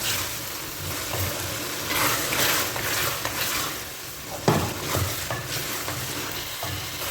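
Potatoes and minced meat with whole spices fry in a pan, a loud continuous sizzle with repeated stirring scrapes and a sharp knock partway through.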